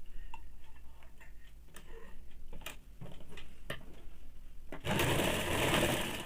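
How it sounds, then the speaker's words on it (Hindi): Scattered ticks and clicks of handling precede a sewing machine starting up to stitch a folded half-inch hem on woollen baby-frock fabric, running loud and steady to the end. "एक बार फोल्ड करके पहले सिलाई कर लेंगे, उसके बाद फाइनल सिलाई डाल देंगे।"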